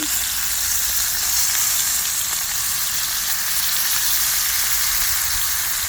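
Steady, loud sizzling and crackling of short mackerel frying in hot oil, continuous and close, with no voices.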